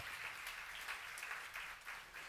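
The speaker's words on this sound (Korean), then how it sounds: "박수 하세요." A church congregation claps together during a sermon, a faint, even patter of many hands heard from a distance with no break.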